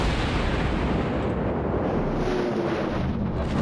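Heavy naval guns boom in World of Warships, a dense, loud, rumbling roar of cannon fire and blast wash filling the whole stretch, with no voices over it.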